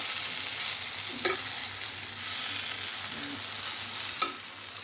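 Brinjal fry cooking in a nearly dry pan, a steady close sizzle broken by a few distinct spatula scrapes and one sharp knock against the pan near the end.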